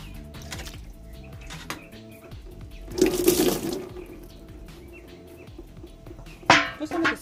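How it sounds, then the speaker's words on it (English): Running water splashes for about a second while a cutting board is rinsed on a balcony during outdoor cooking, followed later by a second brief splash and light clatter nearby. "I'm gonna wash my board so I can get to the food. Just rinse them off."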